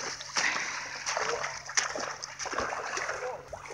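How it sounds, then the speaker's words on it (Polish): A person wading into cold water, with irregular splashes and sloshing close by over a few seconds, mixed with faint background voices. "I jeszcze raz do wody wchodzimy."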